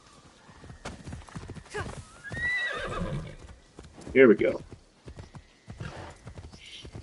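A horse in AC Shadows trotting with steady clip-clop hoofbeats, then letting out a loud whinny mid-clip, while someone talks briefly over the hooves.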